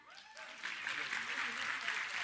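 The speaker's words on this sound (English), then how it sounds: "Now, you can clap." An audience breaks into applause at a talk, building quickly from a few claps to a steady, moderately distant round of clapping after a speaking voice.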